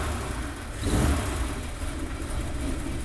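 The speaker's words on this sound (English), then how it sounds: "starts the car right up" A 1941 DeSoto sedan engine catches and settles into a steady, moderate running rumble, heard close by with a brief swell at start-up and no voices.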